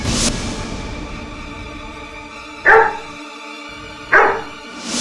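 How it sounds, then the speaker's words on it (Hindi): A dog barks twice, two sharp separate barks about a second and a half apart, set against a steady tonal background in a courtroom drama. "ये कुत्ता इन्हें देखकर भौंक रहा था।"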